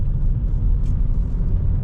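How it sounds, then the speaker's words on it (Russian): A car drives along the road with its engine revs building smoothly, heard from inside as a loud, steady low rumble and drone with no talking. "Едет она, набирает обороты плавно"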